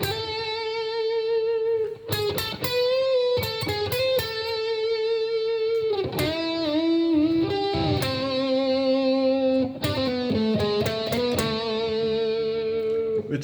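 Electric guitar plays the introduction to a song, a rhythmic melodic line of short accented notes and bends, sustained and steady throughout with no voices.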